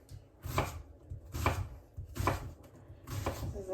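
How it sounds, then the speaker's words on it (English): A knife cutting into an onion on a board in a home kitchen, four distinct close chops at an even, unhurried pace with quiet pauses between. "make some cuts. But I'm not going to go all the way to the end, as close as I can without cutting all the way through"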